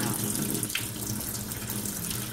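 Water runs steadily at medium flow from a Kangen water ionizer, producing a continuous, close, even rushing stream with no voices.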